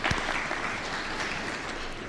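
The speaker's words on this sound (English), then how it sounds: "Oh, clap for her." Audience members clap for a school principal in the room, a short burst of brisk, dense clapping that holds steady at moderate volume for a couple of seconds.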